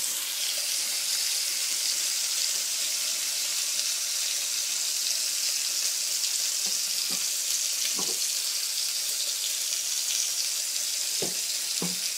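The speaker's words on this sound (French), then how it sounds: "Je brasse les champignons." Mushrooms sizzle steadily in a frying pan as they are stirred, with a constant hiss of frying and a few soft utensil clinks and scrapes against the pan.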